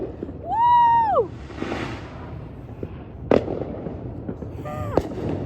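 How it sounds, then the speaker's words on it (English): Fireworks going off at a holiday celebration: a loud rising whistle from a launched shell, then sharp pops and cracks that keep coming, heard close and on their own with no talking. "Fireworks."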